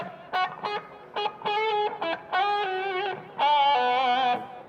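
A distorted electric guitar plays a run of short plucked notes, then longer sustained ones with a buzzing, gritty tone and no feedback, alone with no voices.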